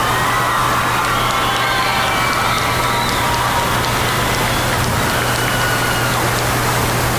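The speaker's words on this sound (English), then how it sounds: "would you please join us in a round of applause for all of our seniors?" A stadium crowd at a high school football senior night applauds and cheers, a loud, sustained wash of clapping and shouting with a steady hum under it.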